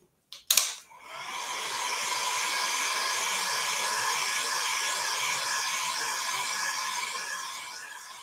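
A hair dryer blows steadily on freshly made Christmas decorations, switching on after a couple of clicks and then holding a loud, even, close whoosh with no talk.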